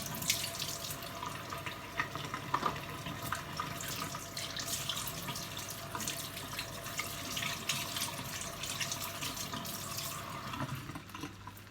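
Tap water runs steadily into a sink while something is rinsed under it, a continuous close splashing flow with small clinks and shifts, no voices.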